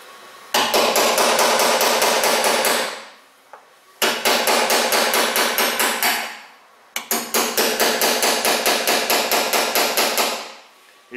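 Rapid hammer blows drive a lock rivet through a Chevy Tahoe rear door, heard as three loud, fast bursts of evenly spaced metallic strikes, each lasting a couple of seconds with short pauses between.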